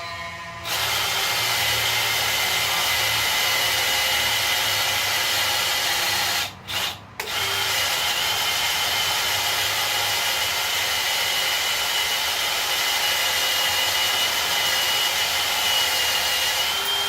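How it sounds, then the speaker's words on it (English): A power drill bores steadily into a part from a 1951 Chevy engine swap, a loud continuous whine running nearly unbroken, with one brief pause around the middle before it resumes. "See how easy it's drilling?"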